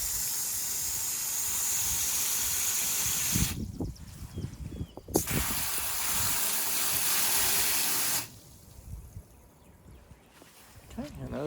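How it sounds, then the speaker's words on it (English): Water hisses and splashes into buckets of feed on a farm, poured in a few bursts with gaps between, close up. "add a little bit of water to these here"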